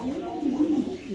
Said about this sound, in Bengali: সাইজ কোয়ালিটি অনেক সুন্দর, বড় সাইজের কবুতর